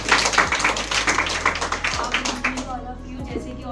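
Audience clapping at a school plan show event, scattered loud claps over a busy room with background voices throughout.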